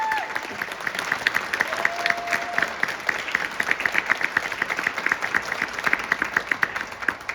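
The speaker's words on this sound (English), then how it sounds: "A round of applause for these guys." An audience gives a sustained round of applause for concert band students at a school concert, with dense, lively clapping from many hands continuing throughout at a close, moderately loud level.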